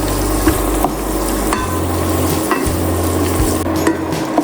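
Raisins frying in a pan over low to medium heat, a steady close sizzle with faint stirring scrapes and occasional light knocks.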